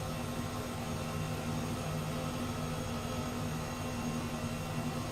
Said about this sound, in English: These things are loud. Like, if a helicopter were to buzz your house at this altitude, you would definitely wake up